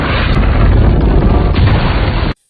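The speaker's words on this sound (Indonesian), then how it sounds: "Ledakan meriam tersebut berhasil menghantam helikopter Joe hingga membuat helikopter itu menabrak tebing." A loud, sustained explosive boom as a helicopter crashes into a cliff, with rumbling crash that fills the clip, then cuts off abruptly into silence.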